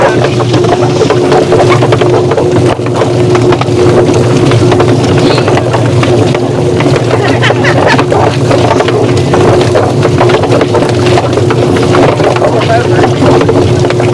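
A turkey plucker machine spins steadily on a farm, a loud continuous motor drone with a constant hum and rattling, thumping churn throughout, and people talk over it.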